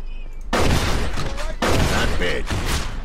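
Bursts of gunfire from the Mafia II video game, three dense loud volleys in quick succession with a brief gap between each, filling the clip.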